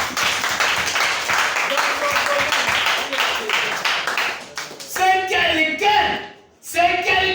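A crowd claps and applauds loudly, a dense wash of claps, with voices mixed in and a brief dip before the clapping resumes.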